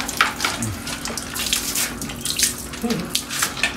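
Water runs from a tap in a continuous splashing stream while a restless dog is bathed, with occasional voices and faint movement under the flow.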